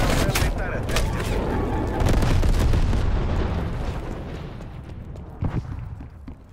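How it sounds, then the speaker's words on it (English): Napalm strike in Call of Duty: Black Ops Cold War, a loud, continuous rumbling barrage of blasts and crackling fire that fades gradually, with a sharp burst near the end. "Napalm strike inbound."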